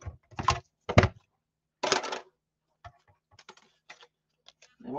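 A die-cutting machine presses a paper circle for a Christmas scrapbook layout: three close, rough grinding bursts, then a run of faint scattered clicks and taps.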